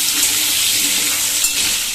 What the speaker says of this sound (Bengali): আলুটা ভাজার সময় আমি 1 চিমটে এর মধ্যে হলুদ দিয়ে দেব